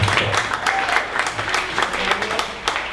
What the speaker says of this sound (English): Round of applause for being self-taught